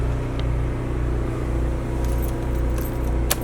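Keys jangle in short metallic bursts near the ignition of a 2009 Fleetwood Pulse 24A class C diesel motorhome, over a steady low engine rumble. No one speaks.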